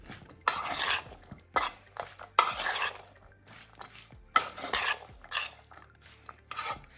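Salsa being mixed with lime juice and coriander in a bowl, heard as repeated bursts of wet stirring and scraping that come and go over several seconds, with clinks of utensil on dish and no talking.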